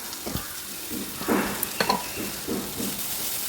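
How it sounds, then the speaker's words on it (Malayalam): Okra masala with turmeric sizzles in a pan while a spoon stirs it, soft frying hiss broken by scraping and clinking bursts, close and moderately quiet. "ഒന്ന് ഇളക്കാം."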